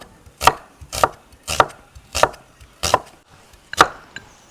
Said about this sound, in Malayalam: ഈ സവാള നമുക്കൊന്ന് കുനുകുനാന്ന് അരിഞ്ഞെടുക്കാം